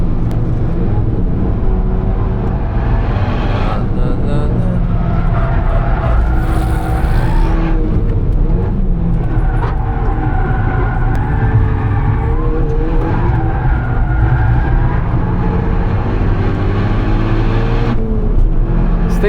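A Lotus sports car drives hard on the Nürburgring, its engine roaring loud and continuous for the whole stretch, with tyre squeal and skidding noise rising and falling over the steady drone.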